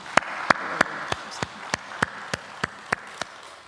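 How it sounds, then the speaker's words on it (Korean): Congregation at a church dawn worship service clapping in sparse, sharp, evenly spaced claps, about ten in under four seconds, heard close over a quiet room with no talking. "우리 오늘도 새날을 주신 하나님께 감사와 영광의 박수 같이 돌리겠습니다."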